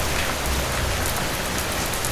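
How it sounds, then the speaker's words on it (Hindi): Heavy rain pours down steadily and close by, a dense, unbroken hiss of drops drumming on surfaces with no pauses and no voices. "बारिश रुकने का नाम नहीं ले रही थी।"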